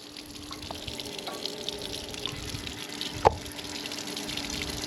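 Water running through a commercial 3800 PSI pressure washer with no load on it, a steady hiss and hum with one short sharp tick partway through, no talking.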